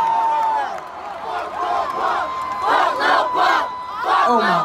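Concert crowd at the Rolling Loud festival chanting and screaming together in loud, rhythmic bursts of massed voices, with a sustained tone running under the roar.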